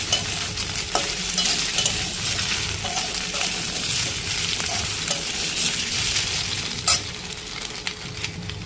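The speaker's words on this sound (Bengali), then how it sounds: "সবজিটা লাল লাল হয়ে গেছে, এর মধ্যে আমি একটু গোটা মশলা দেব" Vegetables fry in a pan with a steady, dense sizzle while being stirred, whole spices going in partway through a plain vegetarian curry; scrape and clatter accents rise above the continuous hiss, with no voices.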